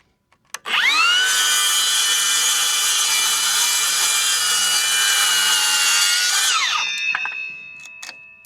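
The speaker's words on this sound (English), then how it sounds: "So I think I just need to cut this off real quick with a saw." A power saw cuts through a wooden board for a concrete form, a loud, steady high whine lasting several seconds before spinning down, followed by a few small knocks.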